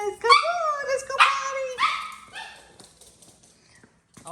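A dog barks and whimpers close by, several sharp yelps and whines packed into the first two seconds, then tapering off into quieter whimpers and shuffling.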